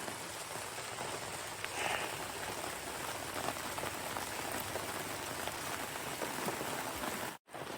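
Rain falls steadily at a campsite in Baldwin, a dense, even patter of drops on surfaces that continues without a break, with faint scattered taps over the wash and a brief dropout near the end.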